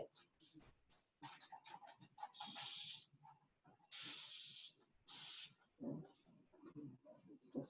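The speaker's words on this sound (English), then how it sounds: "So same thing, spray water, smooth it off." A spray bottle of water gives several short bursts of spray hissing close by, during hair bleaching, interrupted by quiet talking and small handling noises.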